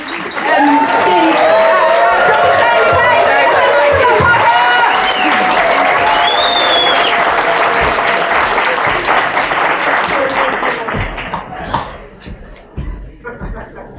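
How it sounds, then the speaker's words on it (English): Audience at a science stand-up comedy show breaking into loud, dense applause mixed with cheering and crowd noise. It stays steady for most of the stretch, then thins out near the end. "please give a huge round of applause and flop your banana skin"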